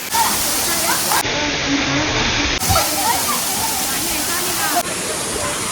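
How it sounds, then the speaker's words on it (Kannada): A waterfall near Bhatkal pours down in a loud, steady roar of falling, splashing water that fills the whole stretch without a break, with voices faintly mixed in. "ಅಲ್ಲಿ ನೀರೇನು ಬೀಳ್ತಾ ಇದೆ"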